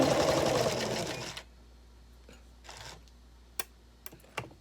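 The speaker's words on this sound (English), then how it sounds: "all I had to do was pick up two and run a seam" A sewing machine runs a seam on small quilt blocks, a loud dense whir for just over a second that stops abruptly, followed by quiet handling sounds and a few sharp clicks.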